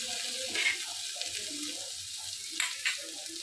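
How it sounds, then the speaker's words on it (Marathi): Coriander seeds and broken wheat dry roasting in a pan, a soft steady rustling hiss with a few scraping stirs close by, no talking. "थोडे धने दलिया थोडा आता हे भाजून घेत आहे"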